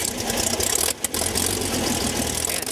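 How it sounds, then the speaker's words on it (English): A backcountry airplane engine starts and idles on a frosty morning at a remote airstrip, a loud, steady rumbling drone that dips briefly after the first second, then settles back into a continuous idle. "And fires up the engine for a flight back home."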